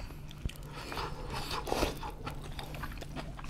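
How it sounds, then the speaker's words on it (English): Crunchy bites and chewing of kimchi, eaten alone without pork belly at a Korean pork belly meal, close and moderately loud with a few sharp crunches. "Let's try a piece of kimchi."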